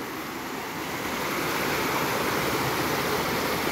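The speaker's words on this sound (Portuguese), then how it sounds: "É o riozinho que forma com a água da cachoeira." Continuous rushing of a small river fed by a waterfall in Ubatuba, Brazil, a broad steady hiss that swells slightly louder after the first second and carries on without pause.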